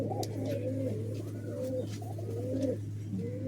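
Madrasi high-flying pigeons give soft, repeated low coos, close and steady over a constant low hum, with no talking.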